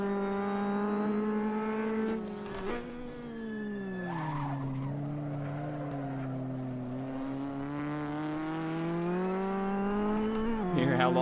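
Alfa Romeo GTAM race car lapping Barcelona in a racing video game, its engine droning steadily with pitch dips and climbs as it slides and skids through a corner, then picking back up under throttle, continuous and close.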